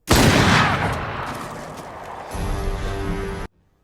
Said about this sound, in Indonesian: Murphy dengan cepat mengisi senapannya dan menembak ke arah Curtis yang kabur mengenai kakinya.